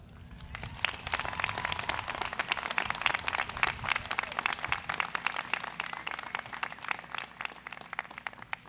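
A commencement ceremony crowd applauds steadily, many individual claps crackling in a sustained, fairly even round that builds slightly then holds, heard from a distance in a large hall.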